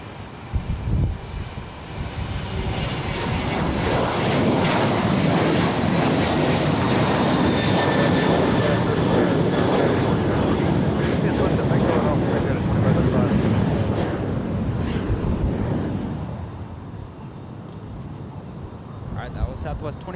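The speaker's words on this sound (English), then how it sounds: "Southwest 2535 headed down to San Diego, Boeing 737-700." A Southwest Boeing 737-700 jet airliner at San Jose International Airport roars past during departure, a sustained loud engine rumble with wind buffeting that fades out toward the end.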